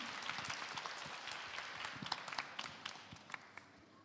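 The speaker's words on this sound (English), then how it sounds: "so big applause to Živilė" An audience at a social-impact pitch showcase day applauds as the first presenter takes the stage. Sustained, moderately distant clapping with sharper individual claps standing out toward the end.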